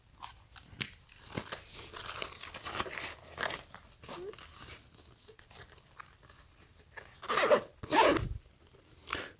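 Zipper on a Supreme SS18 shoulder bag handled in short bursts, with scratchy pulls and rustling of the bag's fabric between them, close and fairly quiet, with no talking.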